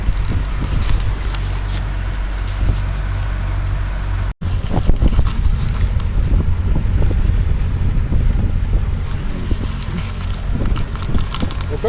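A Yamaha 115 VMAX SHO outboard motor drives a 22-foot panga boat during its first break-in run, a continuous loud engine roar heavily mixed with wind buffeting and rushing water, with one brief dropout.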